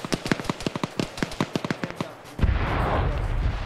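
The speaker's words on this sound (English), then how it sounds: "We just heard a big line of explosions a little close to Blue 4." A rapid line of explosions during a PvP match, around twenty sharp cracking blasts in quick succession, then a louder rumbling boom that trails off.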